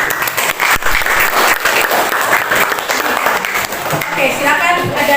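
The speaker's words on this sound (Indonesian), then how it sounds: "tepuk tangan dulu untuk kelompok" A classroom full of students applauds a student group after their presentation, with loud, close, dense clapping that continues throughout and a few voices mixed in.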